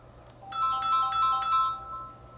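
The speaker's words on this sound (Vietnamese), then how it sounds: "Đó, lại có điện thoại." Phone ringtone for an incoming call, a bright repeating electronic melody of short tonal bursts rising over a quiet room hum, heard alone without talk.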